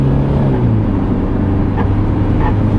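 BMW E60 520d diesel car under full-throttle acceleration, a loud, steady in-cabin engine drone with a low tone rising gradually in pitch, accompanied by road and wind rumble.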